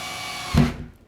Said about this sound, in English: once the pilot bit goes in, try and keep the drill square